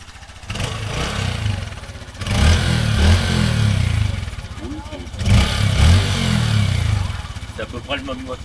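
A Yamaha PG-1 small motorcycle engine idles and revs in surges, rising and falling several times, close by with someone talking over it.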